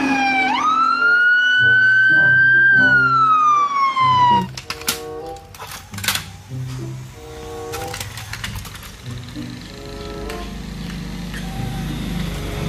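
A toy fire truck siren wails with a rising electronic tone, then gives way to clattering plastic clicks and bright beeps, loud and close.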